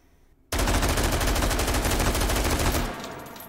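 An AR18 rifle in the VR game H3VR fires fully automatic 5.56x45 NATO, a loud, continuous rapid burst starting abruptly and running about two and a half seconds before cutting off into quiet.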